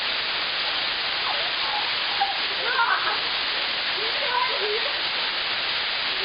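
A high three-tiered waterfall at Mar'yanchyni waterfalls spills into a cool pool where people bathe. It gives a steady, dense rush of falling water that holds at an even, fairly loud level for the whole stretch.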